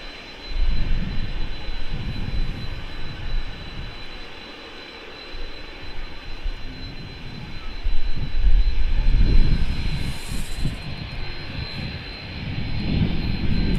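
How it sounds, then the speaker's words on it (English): Business jet engine at Manchester Airport, a continuous distant roar with a faint steady high whine, swelling and fading in waves of rumble over the whole stretch. "I can still hear that BizJet"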